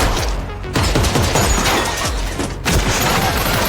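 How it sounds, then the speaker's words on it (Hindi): Loud bursts of gunfire ring out at close range, with booming reports and a brief pause between volleys. "एक गोली चली"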